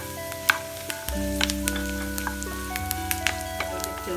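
Cashews fry in hot fat in a pan for ada pradhaman, a steady close sizzle with scattered sharp crackles and pops, fairly loud and without talk.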